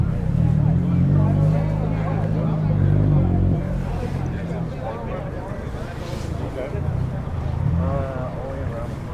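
A Lamborghini Gallardo Superleggera sports car drives past on a reopened road, its loud low engine roar and rumble dominating the first few seconds before fading into wind and road noise, with people talking throughout.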